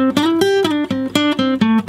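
Guitar plays the second line of a song's solo, a quick run of picked and sliding single notes, each sharply attacked, close and unaccompanied.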